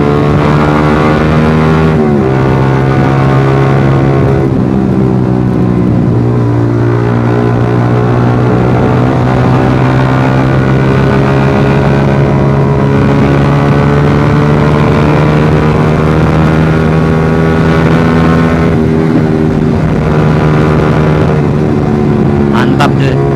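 Suzuki GSX-R150 motorcycle engine running through an aftermarket exhaust, a loud, steady droning idle with rising revs, continuous and close for the whole stretch.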